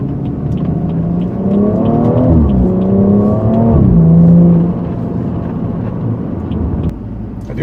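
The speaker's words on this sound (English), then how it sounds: "I do wish the exhaust sound was a little bit louder in the cabin" BMW engine and exhaust heard from inside the cabin while driving, a loud, smooth rising drone through several upshifts, then a steadier cruise hum with no talking.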